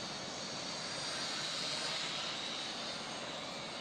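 A Syma X5C quadcopter drone turns sharply in flight, its rotors giving a steady, loud, broadband whine and rush that holds evenly throughout with no pauses.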